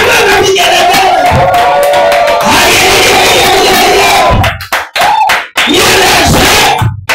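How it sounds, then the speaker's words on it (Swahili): A worship congregation cheers loudly and ululates in praise. The crowd noise is sustained and dense, with high trilling calls riding over it, then breaks into a few short bursts near the end. "shangwe na vigelegele"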